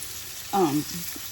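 Floured liver pieces fry in butter in a skillet with a soft, steady sizzle, briefly overlaid by a short voiced sound.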